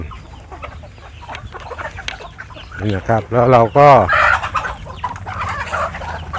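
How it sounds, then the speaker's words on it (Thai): Chickens cluck and squawk loudly in a burst of agitated calls while competing for feed, with someone talking briefly amid the flock's noise. "ไก่เขาก็จะแย่งกัน"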